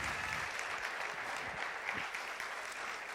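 Church congregation applauding during a celebration service, a steady, continuous wash of many hands clapping at moderate volume, uniform from start to finish.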